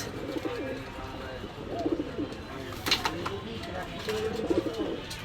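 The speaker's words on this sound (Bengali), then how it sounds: "খুব চঞ্চল কবুতর।" Pakistani pigeons coo repeatedly in low, throaty phrases, several overlapping calls in a steady rhythm close to the microphone, with a voice talking over them.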